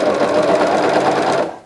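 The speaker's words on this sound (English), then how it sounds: "This one, as I'm sewing, because I'm watching where the blade is" Serger sewing machine running steadily as it stitches an elastic waistband, a continuous close whirring hum that cuts off abruptly near the end.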